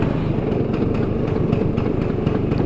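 A 1962 Vespa VBB scooter engine idles steadily with a rough, sputtering putter, loud and close, running continuously without pause.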